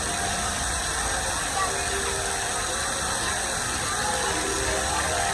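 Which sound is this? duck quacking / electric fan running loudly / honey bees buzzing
electric fan running loudly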